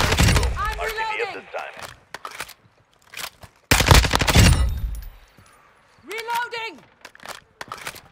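Lachmann assault rifle fire in Modern Warfare, heard as loud broadband bursts of repeated shots in two main volleys with quieter gaps, mixed with game voice callouts and effects.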